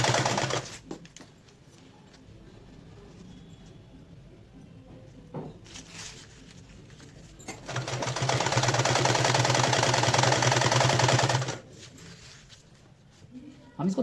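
A sewing machine stitches an elastic strip into a garment, running in short bursts and then a longer steady whir up close, with quieter pauses between.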